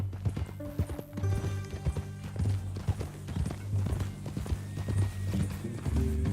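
Horse hooves clip-clop steadily through a Red Dead Redemption 2 scene, a continuous rhythmic clatter of close, moderately loud steps with a brief whinny-like tone and low background tones beneath.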